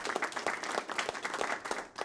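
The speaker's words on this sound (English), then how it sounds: "I stalked off the stage, amid the applause of all the company." A theatre company applauding as a story sound effect, brisk rhythmic clapping from a small group, fairly close and continuous for a couple of seconds.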